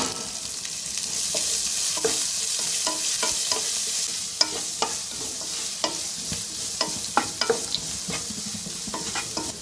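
Chopped onion and green chilies are stirred into bread upma in a hot pan, a steady sizzle with repeated scraping clicks of the spoon throughout, no voices.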